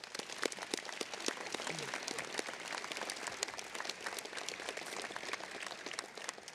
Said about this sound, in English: Let's give Sergeant Griffith a round of applause.